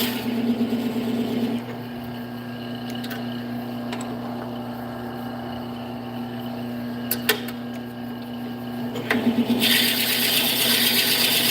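A Forstner bit bores into wood on a lathe turning at 500 RPM, a steady grinding rub with a constant motor hum underneath, a couple of brief clicks partway through, and the cutting noise growing louder near the end.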